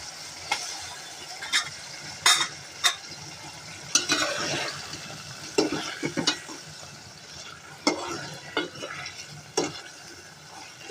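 Small pabda fish added to a pan of cooked-down tomatoes, steady frying hiss broken by repeated clacks and scrapes of a spatula stirring, close and uneven in rhythm.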